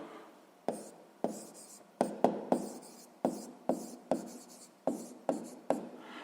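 A pen scratches out a grade 6 maths exercise solution in brisk, evenly spaced strokes, a dozen or so sharp scrapes close by with no voice over them.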